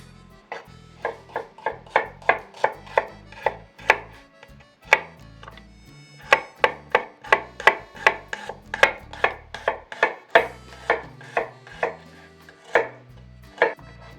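A knife slices vegetables into thin slices on a cutting board in quick, rhythmic chops, with crisp knocks in steady bursts and brief pauses between runs.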